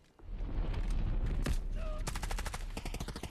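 Gunfire in the Delta Force video game rings out loud and close, first a few heavy shots and then a rapid automatic burst of many rounds.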